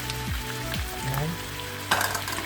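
About a kilo of chicken frying in a pan while being stirred and seasoned with fish sauce: a steady crackling sizzle with scraping stir noises and a louder burst of spattering near the end.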